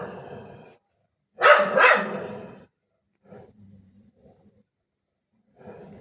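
A dog barks at night: a couple of loud, close barks in quick succession, then quieter growling noises after a pause and the start of another bark at the end.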